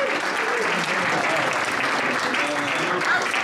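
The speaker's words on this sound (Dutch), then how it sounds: "Geef een applaus." Sustained audience applause fills the room at a roast event, a dense steady clatter of many hands clapping at full strength with no gaps.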